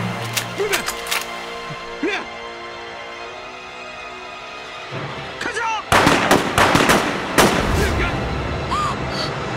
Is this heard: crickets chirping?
no